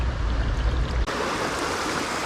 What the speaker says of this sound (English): a bit of a spillway kind of thing going on here. The water is up, so there's more water coming over this than usual.